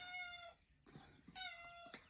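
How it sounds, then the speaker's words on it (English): A cat meows to be let out, two drawn-out plaintive meows separated by a short pause, soft and somewhat distant with faint shuffling between them. "my cat needs to get out"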